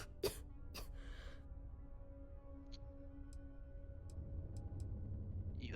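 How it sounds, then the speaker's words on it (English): A character in the game Starfield coughs twice, close and brief, at the very start; a low ambient hum and a few faint ticks follow. "That cough doesn't sound good at all."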